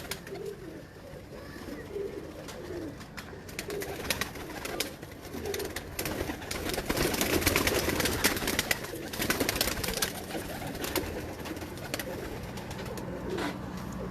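Breeder pigeons coo in soft, low repeated calls, fairly quiet and overlapping against a constant background hiss.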